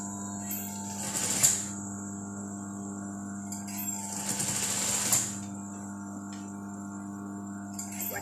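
A sewing machine stitches along the edge of a dress, a steady mechanical hum with two louder bursts of running stitching, with no talking.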